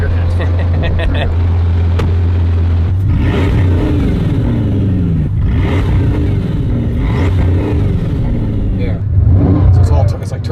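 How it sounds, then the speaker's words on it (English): Four-turbo Bugatti engine pulling hard under acceleration, a loud sustained low roar with rising whine and surges, heard from inside the car while people talk over it. "So it's like turbo noise. It's 4 turbos."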